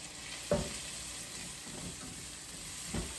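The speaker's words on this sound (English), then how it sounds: "Got our onion going, already smells great." An onion frying in a pan gives a steady, soft sizzle throughout, with two brief louder stirring scrapes near the start and end.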